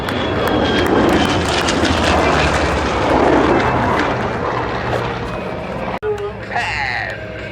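An F-22 Raptor jet roars loudly across an air show crowd, a broad sustained rush that fades sharply near the end, with an announcer's voice over it.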